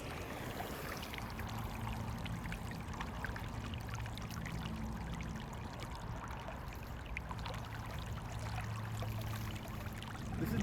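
Water flows from a pond into a pipe outdoors at the Dell, making a continuous, even pouring rush with a light trickling texture. It holds at a moderate level throughout, with no voices.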